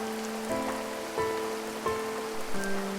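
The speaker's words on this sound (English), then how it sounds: "Suddenly, clouds covered the sky and it started to rain." Steady rain falls as a story sound effect, a constant soft hiss that runs the whole time under gentle tonal music with no voices.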